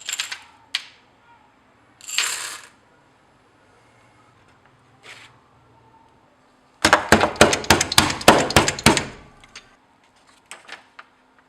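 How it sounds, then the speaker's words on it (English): Ibuprofen tablets being bashed to crush them finer, heard as a dense burst of sharp, rapid knocks lasting about two seconds, with a few isolated taps and scrapes before and after in a quiet room. "We'll bash it a bit more so it's a bit finer."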